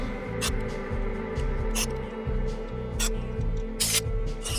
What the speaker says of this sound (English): I'm going to take my electronic spray cleaner